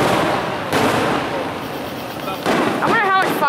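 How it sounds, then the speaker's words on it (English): Fourth of July fireworks bursting outdoors, with a sharp loud crack near the start and more bangs and crackling later, mixed with excited voices and whistling tones near the end. "I wonder how much fireworks they have."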